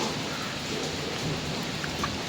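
Steady rain falls during a trip to Kollur, a continuous close hiss of drops that stays even throughout with no voices.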